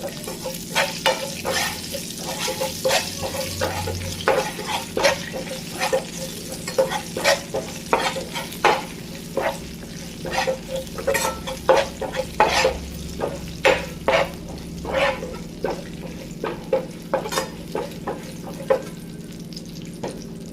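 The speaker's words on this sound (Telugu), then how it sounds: "ఫ్రై చేసుకోండి." Whole spices for a Telugu brinjal curd chutney fry in a hot pan, a steady sizzle broken by rhythmic scraping stirs that repeat throughout at close range, with no talking.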